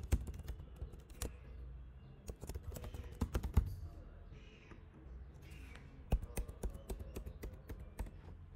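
An email and password are typed on a computer keyboard, irregular bursts of crisp key clicks, close and fairly quiet, with short pauses between runs.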